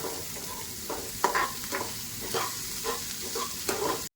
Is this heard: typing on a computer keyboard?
no